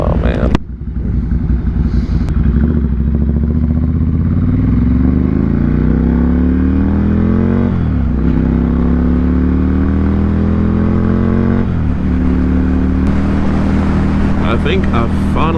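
A Ducati motorcycle engine runs loudly and close throughout, a deep rumbling idle with gentle rises and falls in revs, while someone talks over it.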